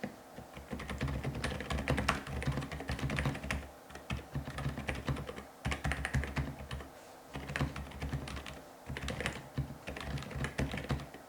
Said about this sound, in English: this is what it sounds like to type on the GK87 Pro with those CuCl2 silent switches